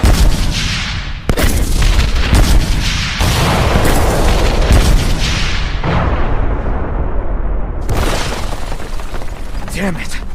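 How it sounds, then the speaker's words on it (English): Cartoon bombs blast repeatedly in an English-dubbed anime battle, a run of loud booming explosions with short gaps between them, and voices are heard over the din. "Bombs, look out!"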